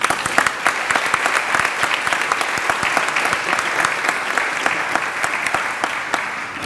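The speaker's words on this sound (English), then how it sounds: "So let's give him a round of applause." Graduation ceremony audience applauding: steady, dense clapping from a sizable crowd in a hall, sustained evenly throughout with no talk standing out.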